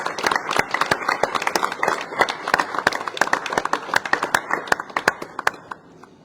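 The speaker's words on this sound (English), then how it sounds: "let us give our firefighters a round of applause." A modest group applauds firefighters at an EMS Week recognition event, with dense, crisp hand claps that are close and fairly loud, continuing steadily for several seconds before thinning out toward the end.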